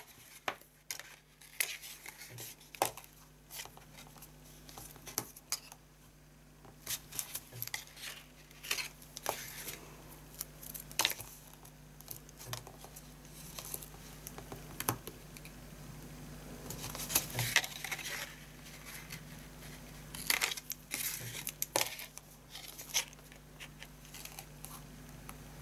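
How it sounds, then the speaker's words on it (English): Double-sided tape is pulled and pressed onto the outer tabs of a paper gift box, giving soft close crinkles, taps and peeling sounds scattered over a quiet room hum. "now we're going to start off by putting some double-sided tape on each of these outer tabs"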